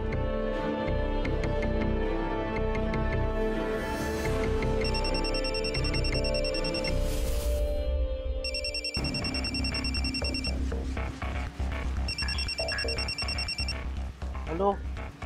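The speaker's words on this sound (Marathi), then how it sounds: "मालकांना फोन करते" A telephone ringtone sounds in three repeated bursts over steady background music in a Marathi TV serial scene, loud and close, with no talking during the ringing.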